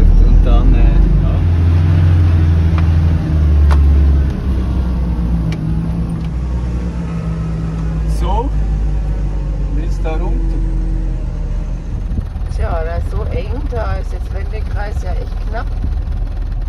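A 4x4 driving a rough mountain road to Jabal Shams in Oman, its engine rumbling steadily while the body thumps and jolts over bumps, loud and close from inside the cabin, with people talking over it.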